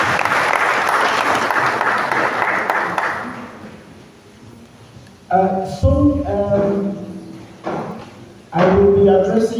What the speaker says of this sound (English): Show the clap for Cletus